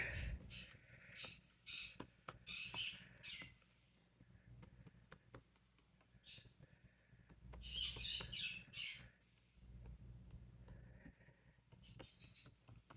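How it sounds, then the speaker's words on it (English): A bird squawks in loud, harsh bursts, several in quick succession, then pauses and squawks again, close by, with faint low background noise. "You hear my bird"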